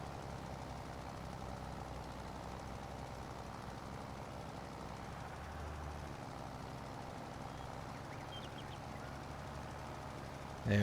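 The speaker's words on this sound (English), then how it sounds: "Come on, tractor. Oh, the wheel spin." A tractor engine in the Farming Simulator 22 game drones at a steady, even pitch as its wheels spin for grip, a constant mechanical rumble with no talking over it.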